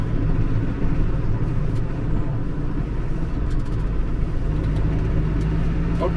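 A snowplough tractor drives along a road, its engine a steady, loud low rumble with broadband road and scraping noise throughout.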